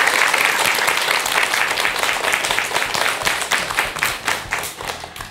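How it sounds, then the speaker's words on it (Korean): A studio audience claps for a Buddhist monk after a televised dharma talk, with a full burst of applause that thins into separate, distinct claps toward the end. "오늘 귀한 시간 내주신 스님께 여러분 큰 박수 부탁드립니다"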